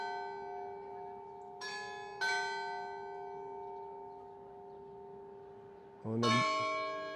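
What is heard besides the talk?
church bell ringing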